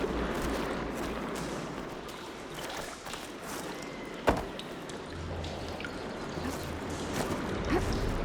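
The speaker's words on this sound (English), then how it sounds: "I can hear water in the room again" Steady rushing water circulating through pipes after a valve is opened in the video game Horizon Forbidden West, flowing continuously with a low hum underneath and a brief clank partway through; no one speaks.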